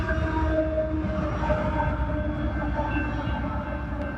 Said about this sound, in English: this empty coal train is going to make a stop for a crew change